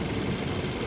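Toyota Yaris engine idling during a coolant drain and refill, a steady close low hum with no speech, brief and unchanging.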